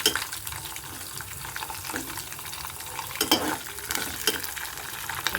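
Urad dal and chana dal fry in hot oil with mustard seeds for tamarind pulihora, giving a steady close sizzle broken by a few louder stirring scrapes, with no talk.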